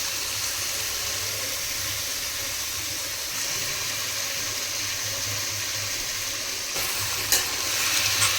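Cut potatoes with salt and turmeric frying in a pan, a steady close sizzle running throughout with occasional scraping stirs, growing a little louder near the end.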